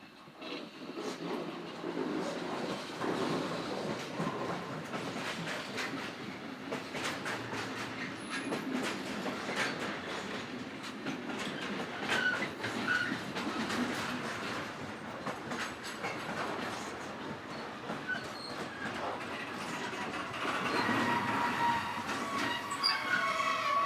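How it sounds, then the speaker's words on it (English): On a December night, a passenger working bound for Gallarate arrives behind Siemens Vectron locomotive 193518, with a continuous rolling rumble, clattering wheels and high squeals of braking wheels, close and steady throughout. "Our first view shows a Tulov to Gallerate working, arriving behind Siemens Vectron number"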